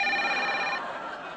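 A telephone bell rings loudly and steadily with a bright metallic trill, then the ring breaks off partway through and a fading room tone is left.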